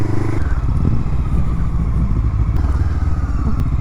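Motorcycles rumble at a meeting point, with a loud, close engine drone that holds steady, light clatter and brief revving.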